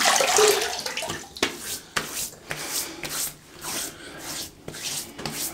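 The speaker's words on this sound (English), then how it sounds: "Right, let's wet the face." Water splashes and rubbing at a sink as the face is wetted before a shave, a series of short irregular splashing bursts, close and fairly loud, with no talking.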